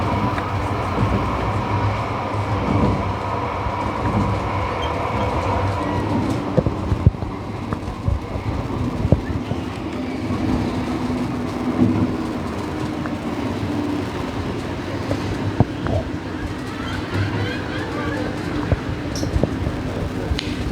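A Metro Express train on the Quatre Bornes–Rose Hill line in Mauritius rumbles steadily along the rails, with a continuous low roar, faint rhythmic clicks and occasional squeaks throughout.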